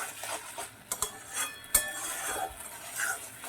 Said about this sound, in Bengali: এবার এটা আস্তে আস্তে আমি নাড়তে থাকবো